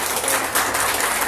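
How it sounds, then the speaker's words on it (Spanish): A church congregation applauds in a short, dense burst of clapping that stays loud and even throughout, with no voices on top. "Dale un aplauso a tu papá."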